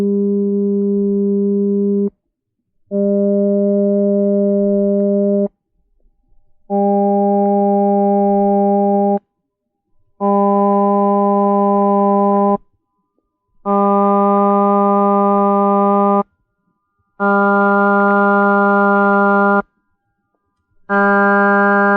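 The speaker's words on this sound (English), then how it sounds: "Listen as we play a fundamental tone and then add its overtones one by one." A steady fundamental tone sounds in seven loud sustained blasts separated by brief silences, each blast richer and brighter as more overtones are stacked on top, alone with no talk.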